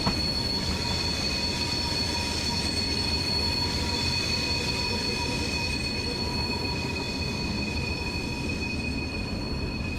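A Class 323 London Midland electric multiple unit running on the Birmingham Cross City line in Train Sim World, with a steady loud rumble, high sustained wheel squeal and electric whine, no voices.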